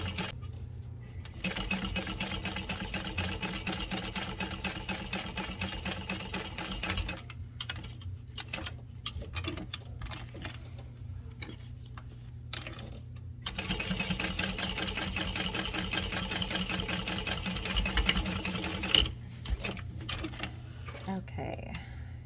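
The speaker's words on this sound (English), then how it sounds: "So we're just going to top stitch this on. I'm using a 5 stitch length. We're going to go all the way around." Sewing machine topstitching fabric all the way around at a 5 stitch length, a steady mechanical whir running in long bursts with brief pauses between passes, close and fairly loud.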